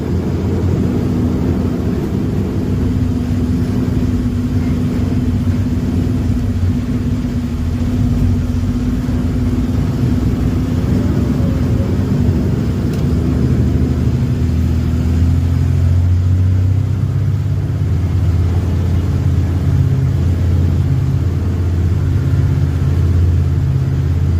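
A truck turning on a tight hairpin bend near Kushalnagar, its engine rumbling loud and close, rising in revs and sustained as it manoeuvres back and forth, no talking.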